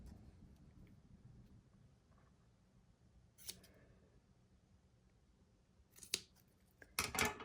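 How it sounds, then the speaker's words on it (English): Scissors trim a yarn gnome beard in a few sharp, isolated snips over a near-silent room, spaced out and growing louder toward the end. "So you can just trim it into a beard shape."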